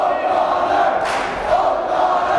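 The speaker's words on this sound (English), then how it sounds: "And they're cheering, they're yelling for O'Connor." A high school playoff basketball crowd in a gym cheers and yells for a player, a dense continuous roar of many voices with a brief louder burst.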